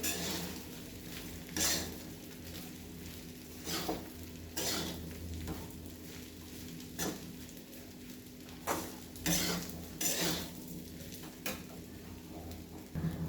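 Sabudana khichdi with crushed peanuts, sugar and salt being gently stirred in a pan, soft sizzling under a steady hum with irregular scraping strokes and light clinks of a spoon against the metal.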